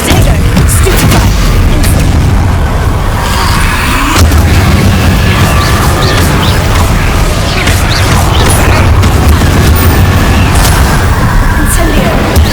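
A fire spell being cast in the Hogwarts Legacy game: dense, roaring booming bursts fill the whole stretch, loud and continuous, with crashing impacts and layered battle noise throughout.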